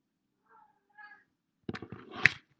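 A house cat meows indoors in an apartment, a couple of soft faint calls followed by a louder drawn-out meow, with no speech.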